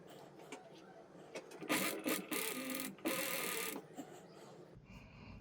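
A sewing machine stitching the side seam of a homemade t-shirt, quiet mechanical whirring in short bursts with pauses and faint clicks, close by, no speech.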